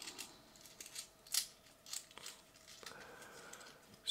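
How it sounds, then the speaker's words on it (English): A bag of euro coin rolls is ripped open, heard as faint, close plastic tearing and crinkling in several short bursts against a quiet background, with no talk. "Maybe I should try to rip open bag number four"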